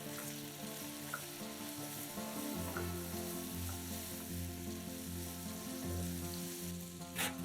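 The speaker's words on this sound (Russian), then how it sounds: "Лук добавляем к мясу и обжариваем еще 2-3 минуты." Diced onion and meat frying together in a pan, with a steady close sizzle throughout and occasional stirring sounds, plus a low droning hum underneath.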